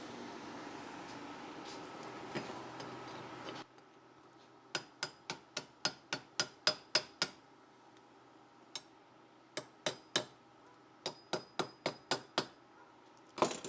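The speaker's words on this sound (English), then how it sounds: "where's my hammer at so I can get that slag off of there" Sharp hammer blows knock slag off a fresh weld while building bus shelves, landing in quick bursts of five to eight evenly spaced strikes separated by pauses, close and loud against a quiet workshop.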